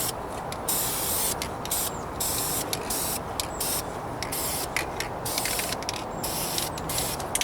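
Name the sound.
spray paint can spraying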